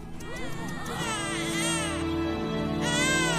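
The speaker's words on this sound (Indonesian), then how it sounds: "Tapi terdengar suara bayi dan ternyata bayinya masih hidup." A baby cries loudly and continuously in a horror film scene, wailing in long, strained bursts over a dense background.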